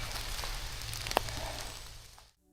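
Rain falls in an open Danish forest, a soft continuous patter with one sharp nearby drop tap, faint and steady before cutting to near silence at the end.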